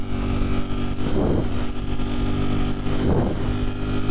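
A Streetfighter V4 motorcycle, still being broken in, pulls ahead at speed with a steady, loud engine drone, heard from the rider's position under heavy wind roar that swells twice.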